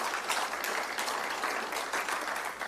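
Dense, continuous audience applause at a seminar forum honoring office staff, loud many-handed clapping filling the whole moment without pause.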